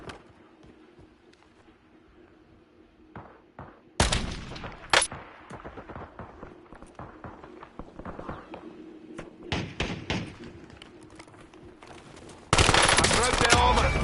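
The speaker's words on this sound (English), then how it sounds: "Dude, you're shooting at me. You. Taking fire." Gunfire in the battle royale video game Warzone: quiet ambience at first, then bursts of single shots and rapid automatic fire at close range, ending in a loud sustained volley.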